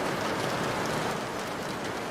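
Steady, close rain hisses continuously on a surface, dense and even, with no voices and no thunder.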